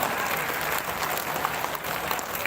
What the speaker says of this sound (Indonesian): Tepuk tangan dulu untuk Al-Furqan